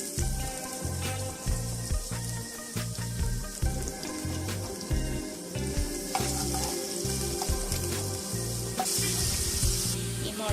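Chopped onion frying in hot oil in a pan for kadai chicken, a loud, close, continuous sizzle with frequent rhythmic scrapes and clatters of a spoon stirring throughout, no voices.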